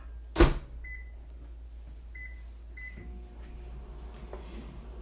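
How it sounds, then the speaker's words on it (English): A kitchen microwave oven runs steadily after a loud door thunk to soften cream cheese for an icebox cake, with its low hum continuing alone and a few short beeps near the start. "So I'm going to just stick it in the microwave for about 20 seconds."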